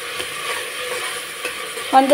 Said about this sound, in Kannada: ಇದು ಒಂದು ಸ್ವಲ್ಪ ಆಯಿಲಲ್ಲಿ ಎಲ್ಲ ಫ್ರೈ ಆಗಲಿ